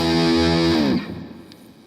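An electric guitar played through a Boss DS-1 distortion pedal switched on sustains a loud, buzzing distorted chord, then the note cuts off and decays into quiet hum; no one talks.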